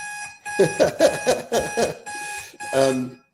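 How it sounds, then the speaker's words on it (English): A loud electronic buzzer alarm sounds in a run of pulsing bursts, then stops briefly and gives one final longer blast. "That's my buzzer that tells us it's time to get started."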